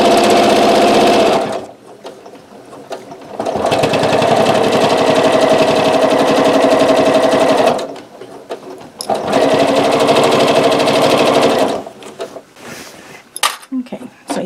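A sewing machine stitches the binding edge of a disappearing nine-patch quilt in two long, loud, steady runs separated by pauses, with rapid needle chatter close by and a few clicks and handling sounds toward the end.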